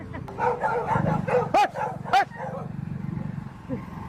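A dog barks at night outdoors, two loud close barks in quick succession amid a busy background of murmuring voices and street hum.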